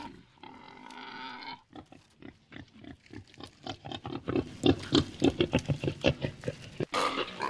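A wild pig held in a wire neck snare squeals, grunts and snorts in a rapid, loud, close series of harsh bursts that grows more frantic toward the end.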